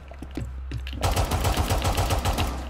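Video game gunfire: a few sparse shots, then a loud burst of rapid automatic fire that keeps going in a fast, steady stream of close shots.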